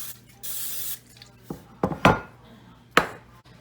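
A cooking spray can hisses in a short steady burst onto a second baking pan for homemade bread, followed by a few knocks and clatters of the pan being handled.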